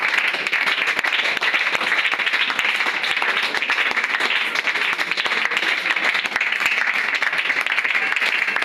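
An audience at a prophetic prayer meeting applauds with dense, sustained clapping that fills the room evenly from start to finish, loud and close, with no break.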